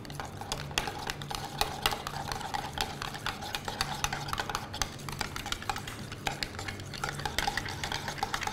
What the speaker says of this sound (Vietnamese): Khuấy đều.